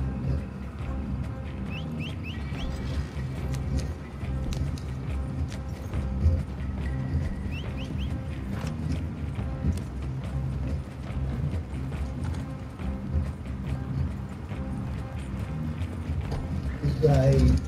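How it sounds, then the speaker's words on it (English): Horse hooves clip-clop steadily in Red Dead Redemption 2, a continuous moderate rhythm running under a dense game soundscape with faint mechanical rattles and occasional bird chirps. "Get the horse out of the way, guys."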